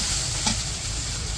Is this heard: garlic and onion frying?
yes